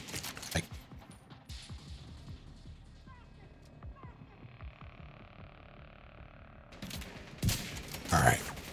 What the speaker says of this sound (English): You stop shooting me, please?